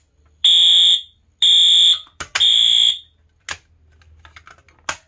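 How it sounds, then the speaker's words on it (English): A fire alarm set off by a pull station blares in three loud, harsh bursts, each cut off when the station is reset, followed by sparse clicks and handling noises with no talking. "Now, as soon as you reset the pull station, the alarm shuts off since there is no control interface or panel."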